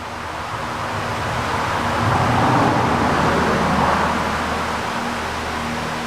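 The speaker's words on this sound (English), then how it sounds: "That was a car." A car passes by outdoors, its road noise swelling from a low rumble to a broad, loud whoosh at the midpoint before fading away again, with no one talking.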